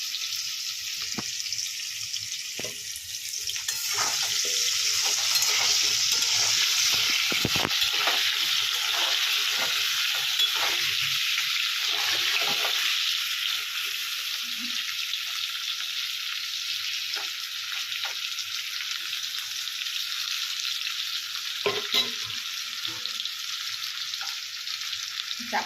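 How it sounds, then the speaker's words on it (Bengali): Potato and elephant foot yam fry together in a pan, giving a steady, close sizzle with faint stirring and scraping throughout, no talking. "আমি আলু আর ওলটাকে একসঙ্গে ভেজে নেব।"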